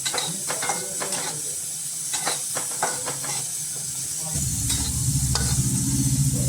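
Dry fruits being dry-roasted in a pan, with steady scraping and stirring over a soft sizzle; partway through, a louder low rumble of frying comes in, with no voices.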